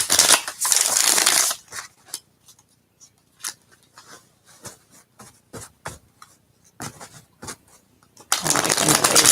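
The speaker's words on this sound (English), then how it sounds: "A couple final shuffles for you" Tarot cards riffled in rapid bursts, a dense shuffle at the start and another at the end, with softer taps and flicks between them.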